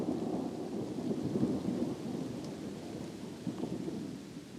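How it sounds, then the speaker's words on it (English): Thunder rumbles through steady heavy rain in a pine forest, a continuous low roar of downpour with rolling thunder swelling and fading across the whole stretch, fairly close and without voices. "I'm trying to hide under a big pine tree as a thunderstorm goes past."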